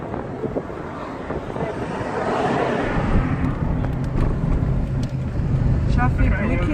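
Road traffic heard from inside a moving car, a continuous rumble of engines and rushing wind noise that swells midway, with people talking over it.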